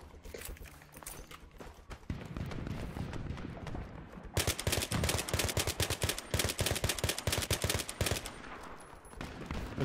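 Battlefield 3 gunfire in a multiplayer match: scattered shots at first, then dense rapid automatic bursts with sharp repeated cracks, loud and continuous with no talk over it.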